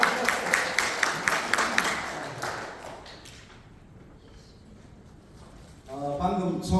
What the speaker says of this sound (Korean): 다시 한번 응원의 박수 한번 부탁드리겠습니다.